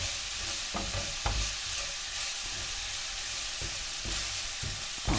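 Garlic and onions frying in a pan as a soft continuous sizzle, broken by several sharp clinks and scrapes of a utensil stirring against the pan.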